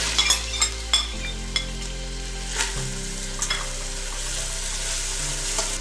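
Chopped onion frying on medium heat in a pan for mutton soup, with a continuous sizzle and several sharp clinks and scrapes from stirring, close up with no speech.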